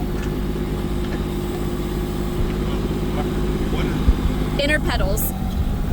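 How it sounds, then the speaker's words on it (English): A Kubota L2501 tractor engine idles with a steady, low diesel drone throughout, while a person talks close by over it. "It sounds like it's cutting the engine."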